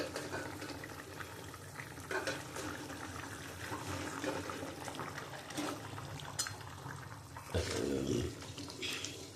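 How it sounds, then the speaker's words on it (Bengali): Rohu fish curry with ridge gourd boiling in a pan, a steady low bubbling and simmering hiss throughout, with a louder burst of sizzling and stirring near the end and no talk. "আমার মাছের ঝোলটা ফুটে গেছে এবার আমি মাছগুলো দিয়ে দেবো"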